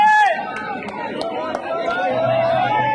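A crowd of supporters at a politician's rally on Ashok Vihar Ramlila Ground keeps up a loud, continuous roar of shouting and chanting, with one prominent voice rising above the rest.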